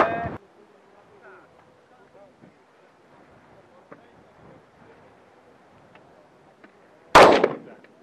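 Two sharp, loud sniper rifle shots ring out during a training session, one at the very start and one near the end. Quiet wind and murmuring voices fill the gap between them.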